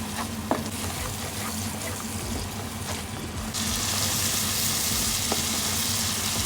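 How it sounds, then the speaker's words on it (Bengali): Spice masala cooking down in oil for a bhetki fish curry, a steady soft sizzle and bubbling that grows brighter and louder halfway through, with no talking. "আমি এই তেলের মধ্যে ভালো করে কষিয়ে নেব"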